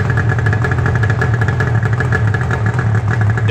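A Yamaha RD 500 two-stroke motorcycle engine idles loud and close, a steady burbling rattle with an even low pulse and faint clatter, with no talk over it.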